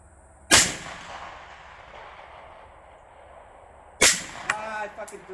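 Two loud, sharp gunshots about three and a half seconds apart during a shooting challenge, each followed by a ringing decay, with a voice briefly heard after the second.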